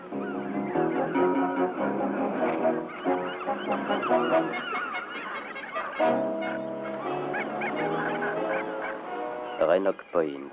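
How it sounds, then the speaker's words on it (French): Geese or similar fowl honk repeatedly at a coastal bird sanctuary, a dense, loud chorus of overlapping calls that continues throughout, with a few sharper honks near the end. "Rennoc Point, le sanctuaire des oiseaux"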